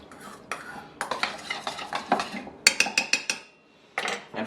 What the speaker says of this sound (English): Just gonna give that a quick mix, just to get the honey off my spoon here.